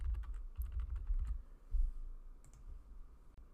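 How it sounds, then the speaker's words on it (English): Someone types a password on a computer keyboard in a rapid run of close, soft clicks, with heavier key thumps spread through the burst, then a few scattered taps at the end. Nobody talks. "You just need to type in the password that we just created."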